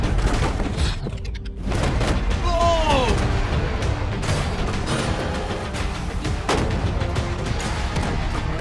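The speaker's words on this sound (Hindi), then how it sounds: "ब्लेक, पहला शॉट फायर करो।" Gunfire aimed at a metal shipping container: a series of sharp, loud cracks and booms scattered irregularly across the stretch, with a brief voice rising between shots.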